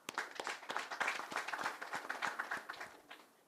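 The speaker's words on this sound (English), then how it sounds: "Please allow me to clap for the ministry." Several people clap for a ministry at an official gathering, a brisk, dense patter of handclaps that stays steady and fairly close for a few seconds before thinning out, with no one talking over it.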